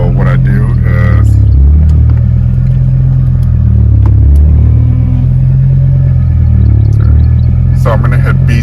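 BMW M6 with an S85 V10 engine idling right after starting, a deep steady rumble throughout, while a person talks over it.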